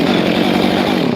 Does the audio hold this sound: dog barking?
no